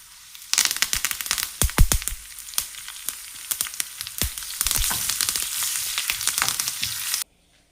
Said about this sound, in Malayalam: 2 ടേബിൾ സ്പൂൺ വെളിച്ചെണ്ണ ഒഴിച്ചിട്ടുണ്ട്. കടുക് ചേർക്കാം. വറ്റൽമുളകും കറിവേപ്പിലയും കൂടെ ചേർക്കാം.